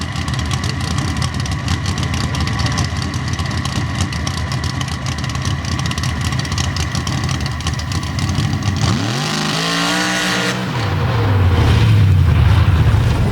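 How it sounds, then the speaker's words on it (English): An 814 cubic inch Hemi racing engine in a pickup at a drag-racing final roars loud and close, steady for several seconds, then drops away in a falling sweep before surging back to a heavy, rumbling idle. "814 cubic inch Hemi racing engine."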